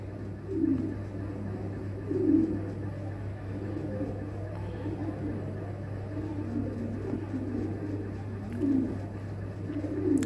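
Lahore Shirazi pigeons coo in soft, repeated low bursts beneath a steady low hum, with occasional talk in the background.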